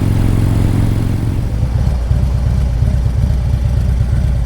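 A motorcycle on Vancouver Island idles loudly close by, then throttles up and pulls away with a throbbing, accelerating engine note and no talking.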